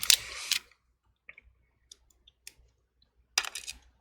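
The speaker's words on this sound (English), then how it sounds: "let's go ahead and close the screen down" A MacBook Pro screen lid being closed during a black-screen repair, heard as a few close, crisp clicks and light taps spaced out over a few seconds, with a sharper burst of contact at the start and again near the end.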